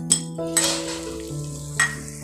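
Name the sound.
raisins added to the pan and frying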